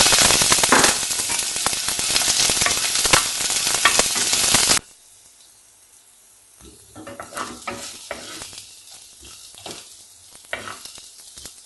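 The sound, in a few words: chopped onion frying in a pan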